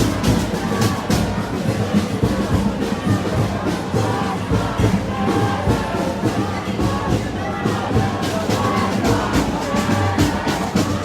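Crowd of protesters marching and cheering downtown in Portland, Oregon at night: a continuous, loud roar of whoops, yells and shouts from many voices, with steady chanting energy throughout and some talking mixed in.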